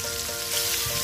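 Pieces of chicken shallow-frying in hot oil for kudukkachi biriyani, a steady close sizzle with no talking.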